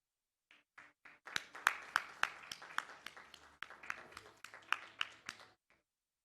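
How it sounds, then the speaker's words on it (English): An audience at the Visionaries of Viksit Bharat summit in Bengaluru applauds. It starts with a few scattered claps, swells into a denser burst of clapping, then thins out and stops, sounding fairly distant and soft. "Huge round of applause for all the visionaries and all the gentlemen on stage"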